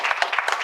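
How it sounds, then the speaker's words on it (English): Audience applause for six presenters at the close of a session on children's rights and needs in education, a brief burst of dense, steady clapping from a crowd. "Can you all join me and give a round of applause to all 6 presenters?"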